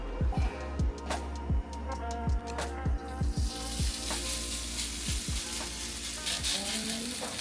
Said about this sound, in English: I'm gonna use a small amount of the bacon fat to cook the potatoes in, and it should crisp up nice